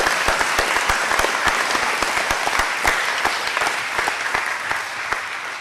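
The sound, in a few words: applause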